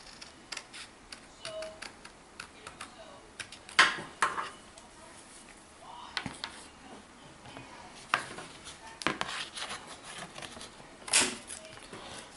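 Parts for a model railway station platform canopy being cut out with a blade on a hard surface, irregular light clicks, scrapes and taps with occasional louder knocks, close by and quiet.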